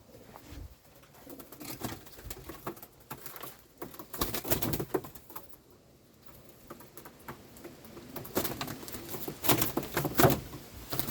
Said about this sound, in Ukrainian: Все, зараз випускаю голубник.